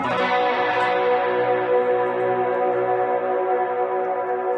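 One electric guitar chord rings out and sustains, its tone smeared by shimmering reverb and echo that lingers and slowly fades.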